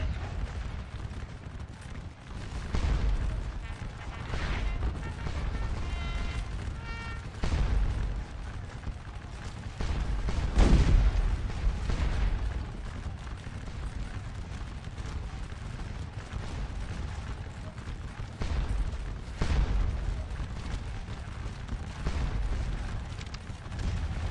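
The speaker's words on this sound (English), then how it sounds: "They get pounded on by the artillery." Artillery fire in the video game Scourge of War Waterloo, at the Battle of Quatre Bras: repeated booming cannon blasts, some near and some farther off, over a continuous rumbling battle din.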